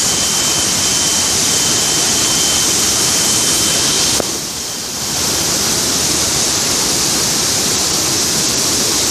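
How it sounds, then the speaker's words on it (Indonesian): The first tier of Mangkol waterfall roars as a loud, steady broadband rush close at hand, briefly dipping mid-clip before resuming at full strength. "air terjun Mangkol yang tingkat pertama"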